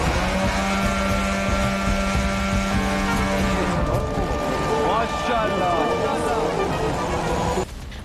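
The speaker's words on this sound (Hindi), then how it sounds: "शाहिद 136, शाहिद 129 और शाहिद 191 ड्रोन के इंजन चालू कर दिए गए थे" Shahed 136, 129 and 191 drone engines run together in a loud, sustained buzzing drone with steady tonal whine, shifting pitch midway, while a voice talks over it.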